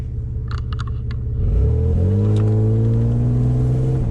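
A Ford Falcon with a worn-out front passenger shock absorber pulls away for a fast lap. The engine roars loudly up close and climbs in pitch as the car accelerates, after faint clicks at the start.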